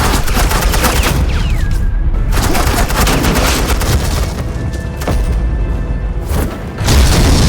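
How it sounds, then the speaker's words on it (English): Suppressing gunfire in Batman: The Enemy Within, laid down by Agent Quinn's forces; loud, continuous volleys of shots and booms with a short lull and a strong final burst. "suppressing fire"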